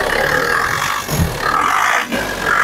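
A 2015 Tavera or Xylo diesel engine, warm from running, is revved close up: a loud, rough drone that surges and dips in two or three pulses.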